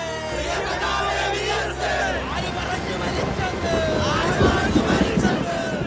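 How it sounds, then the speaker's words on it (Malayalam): At V S Achuthanandan's funeral, a huge crowd roars slogans with raised fists in a loud, continuous mass of chanting voices that swells toward the end. A narrator speaks over it. "തൊണ്ട പൊട്ടുമാറുച്ചത്തിൽ മുഷ്ടി മുകളിലേക്ക് ചുരുട്ടി ആൾസമുദ്രം ഇരമ്പിയാർത്തു"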